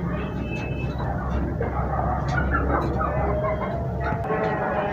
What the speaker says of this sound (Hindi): ये देखिए ये मेरी जो मुर्गियां, ये देखिए ऊपर आ गई हैं